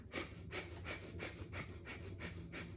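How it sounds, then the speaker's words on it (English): Rapid yogic breath of fire through the nose, a steady run of about eight quick, even puffs, close and fairly loud, with no talking over it. "breath of fire is equal inhale, exhale through the nose"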